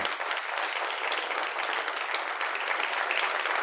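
A room full of people at a Dallas Film Commission event applauds a departing man, dense, steady clapping held close and loud for the whole stretch without a break.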